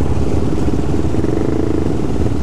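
Loud, close engine drone from supermoto and dirt bikes on a group ride, a continuous dense rumble with no clear breaks, heard as wind-buffeted noise.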